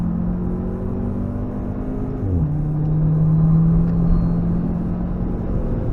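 A car runs at full throttle on the Nürburgring Nordschleife during a touristenfahrten lap, heard from onboard as a loud sustained engine drone with a brief gear-change dip, then the pitch climbing steadily over road rumble.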